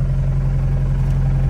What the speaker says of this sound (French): Really noisy. Yeah, it's old car.